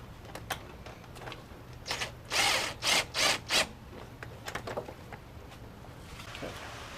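A gear wrench ratchets while loosening the power steering pump on a Jeep Cherokee, giving a cluster of short, crisp bursts mid-clip over a quiet background with scattered small clicks.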